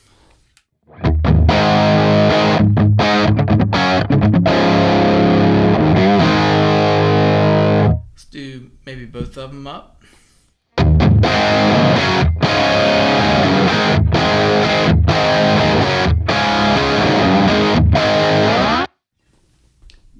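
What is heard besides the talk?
electric guitar through Marshall amp, distorted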